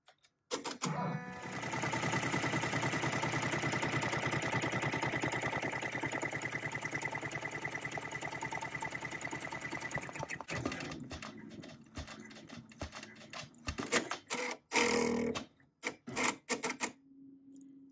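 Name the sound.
embroidery machine stitching triple stitch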